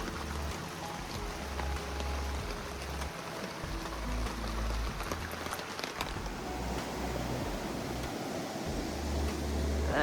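Rain falls steadily at a creek campsite, a constant soft hiss with scattered drips and a low rumble underneath, even and continuous throughout without any voices.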